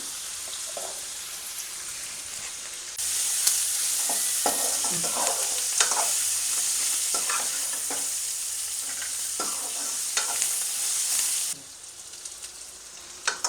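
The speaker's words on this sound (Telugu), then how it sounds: "ఆనియన్స్ కూడా లైట్ గోల్డెన్ షేడ్ వచ్చేంత వరకు ఫ్రై చేసుకోవాలి." Onions frying toward light golden in a pan for raw mango pulihora, a loud, steady sizzle with periodic stirring scrapes and taps, softening at the start and end.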